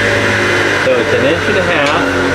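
A power saw cuts through a wooden fence picket, giving a loud, steady whine that runs the whole time with only slight shifts in pitch.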